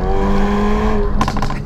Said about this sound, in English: It just pops and bangs like a rally car.